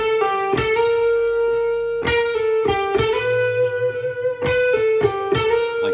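Electric guitar with a sustained, slightly distorted tone, notes bent up and down in pitch with several sharp picked attacks in between, loud and close with no talking.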